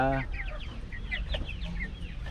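Large free-range chickens cluck in a series of short, close calls, one after another, over low background rumble.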